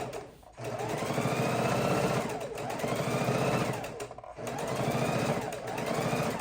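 Sewing machine stitching around the seams of a three-sided ergonomic bone pillow, a steady close whirring hum that runs in three long passes with brief pauses between them.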